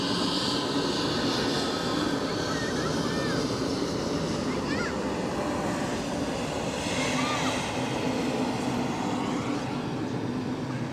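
A Croatian airliner departs Zurich airport, its engines giving a steady broadband roar that holds throughout, with people talking over it.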